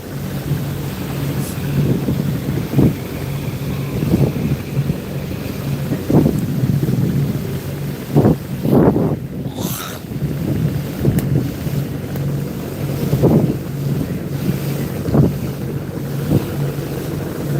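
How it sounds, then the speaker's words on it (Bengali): A large boat, seemingly carrying sand, moves along a wide river on the way to Chandpur, heard as a loud, steady rumble under heavy wind buffeting with intermittent thumps and water noise, no clear talk. "দেখতে পাচ্ছেন একটি নৌকা যাচ্ছে"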